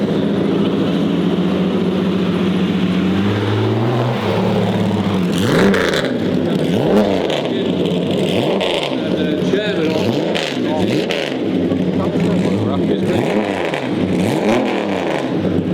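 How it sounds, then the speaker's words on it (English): Powerful engines of a Ford GT40 and a Ferrari 250LM classic racing car roar and rev loudly, with repeated passes and gear changes as the cars accelerate away, steady and close throughout. "this GT40 and the 250LM disappearing around"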